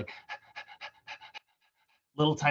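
A voice imitates shallow, rapid breathing, a quick series of short, breathy pants, then a brief pause before a louder breath.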